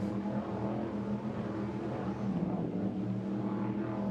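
Powerful racing boat engines roar continuously at high revs during an offshore powerboat race in Ocean City, a dense, steady drone heard from some distance.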